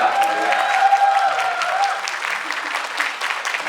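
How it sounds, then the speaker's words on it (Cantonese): A crowded hall at a fan club anniversary gathering fills with sustained, warm applause, dense clapping that continues for several seconds with a faint voice briefly above it. "咁所以我哋今日真係要你熱烈嘅掌聲"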